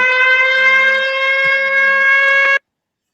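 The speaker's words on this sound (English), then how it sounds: "That was my alarm going off." An electronic alarm blares in a steady, loud, sustained tone for a couple of seconds and then cuts off abruptly into silence, with a few faint low clicks beneath it.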